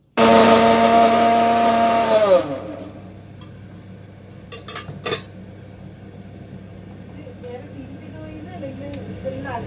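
A mixer grinder's motor whines loudly for a couple of seconds and winds down, followed by clinks and quiet kitchen sounds.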